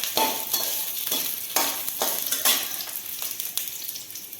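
Dried red chillies sauté in hot oil alongside green chillies for a tomato kurma, producing a continuous close sizzle with a spatula stirring and scraping at a steady rhythm, with no voices.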